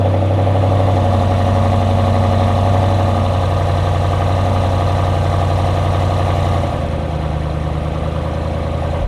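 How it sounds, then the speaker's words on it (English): A BMW M850i with an upgraded exhaust idles with a deep, steady rumble up close, dropping to a lower, settled idle partway through. "let's hear this thing start up. It's got a good exhaust now."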